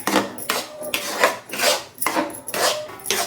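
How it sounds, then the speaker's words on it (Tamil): A spoon scrapes through a thick paste of ground carrot, beetroot and apple in a pan, making repeated rhythmic strokes about twice a second, close and moderately loud, with no talking. "கேரட்டு பீட்ரூட்டு ஆப்பிள் வச்சுட்டு நல்லா கிண்டிக்கலாம்"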